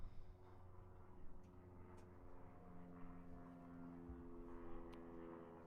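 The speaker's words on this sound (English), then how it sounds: "Got a little plane flying over." A small propeller plane passes over a college baseball ballpark near an airport, its steady droning hum holding at moderate, fairly distant level throughout with faint ambient crowd and field noise, no talking.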